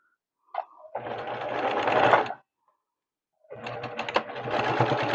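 A sewing machine stitches a fabric bowl cozy in two bursts, running forward and back to lock the seam, with a short quiet pause between them.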